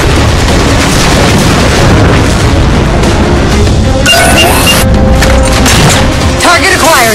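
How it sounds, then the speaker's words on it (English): Railgun fire and explosions as Phantoms are shot down in the game Halo 4, a loud continuous barrage of booms and bursts with crashing debris and whistling effects. "Target those phantoms for the railgun to shoot down."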